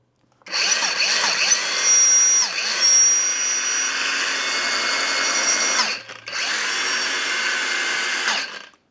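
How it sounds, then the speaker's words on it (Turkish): A cordless metal-cutting grinder whines loudly and steadily, cuts out briefly near the end, then spins up again for a few more seconds. "Kesmek istediğin metali ya da taşlamak, zımparalamak istediğin metali bu aletle kesiyorsun."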